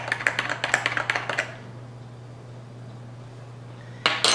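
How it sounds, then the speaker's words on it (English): A spoon clinks rapidly against a cup while instant coffee is stirred for dalgona coffee, a quick run of light metallic taps that stops, then a short burst of clinking returns at the end. "Stir it well."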